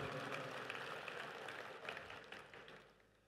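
A crowd at a national party congress applauds visiting foreign embassy guests. The clapping is faint and distant, a continuous patter that slowly fades away.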